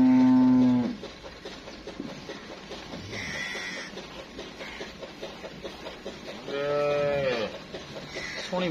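A Sahiwal cross cow moos loudly twice, a short call at the start and another low call later, with farmyard background noise in between.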